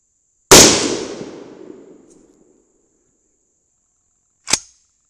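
A .22 Nosler rifle fires one loud, sharp shot whose report rings out and decays over about two seconds, followed several seconds later by a second brief, sharp crack.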